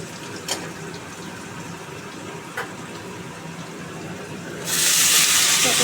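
Water from boiling papaya poured into a cooking pot, a sudden loud hissing gush and splash arriving near the end after quiet kitchen background with a couple of small clicks.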